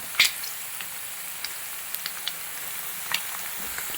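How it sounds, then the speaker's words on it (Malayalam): Prawns crackle while frying in hot oil in a pan, a low steady sizzle punctuated by sharp scattered pops and snaps, one louder burst at the start and others spread irregularly throughout. "എന്താ പൊട്ടുന്ന ഒച്ച കേട്ടോ ടിഷ് ടിഷ് ടിഷ് എന്ന് പറഞ്ഞു"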